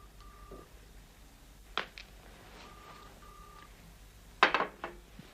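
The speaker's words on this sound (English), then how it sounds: "But I must make a phone call." A telephone number is dialed in a scene from the TV drama The Professionals, heard as a few short, quiet electronic tones spread out in time, with two louder handset clunks.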